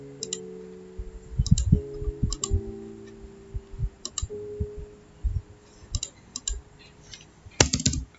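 Typing on a computer keyboard: clusters of crisp, close key clicks arrive in uneven bursts with short pauses between, and a sharper flurry of taps near the end.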